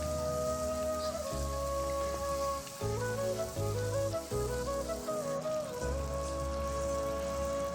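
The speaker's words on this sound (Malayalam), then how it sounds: "ആവശ്യത്തിനുള്ള ചെറിയ ഉള്ളി, പിന്നെ വെണ്ടക്കായ എല്ലാം ചേർത്ത് നന്നായിട്ടൊന്ന് വഴറ്റി കൊടുക്കാം" Small onions and okra sauté in a pan for sambar, giving a steady, soft, rain-like sizzle under continuous melodic background music.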